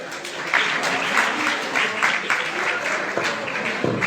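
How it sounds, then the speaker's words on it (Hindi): A crowd at a school New Year program applauds a performer, with dense, steady clapping that stays loud throughout, and faint voices mixed in. "एक बार फिर जसवीर के लिए जोरदार तालियां प्लीज"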